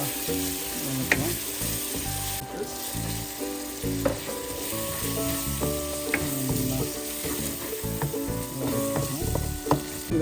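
Ginger garlic paste and turmeric sauté in a hot kadai, a steady loud sizzle broken by repeated clinks and scrapes of a spoon stirring against the pan, with a faint background hum.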